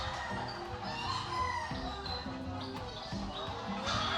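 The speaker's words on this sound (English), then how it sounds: "sorry for the chickens." Chickens cluck and a rooster crows in the background, fairly faint and continuous, with a low hum throughout.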